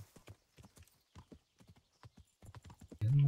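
Steady clip-clopping of horse hooves in the video game Kingdom Come: Deliverance, evenly spaced and fairly close, ending in a short horse snort or whinny.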